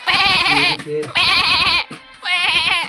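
A goat bleats loudly and close by in three long, wavering calls separated by short pauses.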